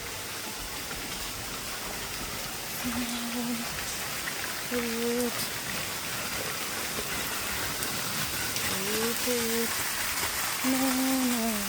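Continuous hiss of rain falling steadily, with a few short tonal voice fragments and brief speech appearing over it.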